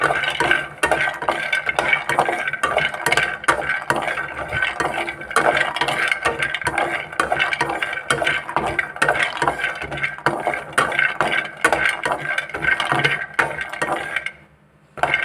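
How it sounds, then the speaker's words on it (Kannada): Cashews frying in a pan for a ragi dry fruit mix, stirred continuously so a dense, close clatter of nuts and utensil scraping runs throughout with a faint sizzle, pausing briefly near the end. "ಜಸ್ಟ್ ಹೀಗೆ 1 ನಿಮಿಷ ಅಥವಾ 2 ನಿಮಿಷ ಜಸ್ಟ್ ಹೀಗೆ ಗೋಡಂಬಿನ ಫ್ರೈ ಮಾಡ್ಕೊಳ್ಳಿ"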